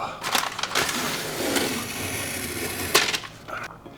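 Brown coating being peeled and scraped off a DIY houseplant stand base, a continuous close crackling, tearing rasp with a few sharper snaps, no talk.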